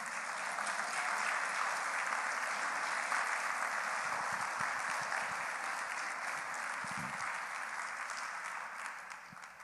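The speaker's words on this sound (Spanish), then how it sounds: "denle otro aplauso al Señor" Sustained applause from a church congregation fills the whole stretch, steady and dense with no speech over it, gradually tapering slightly toward the end.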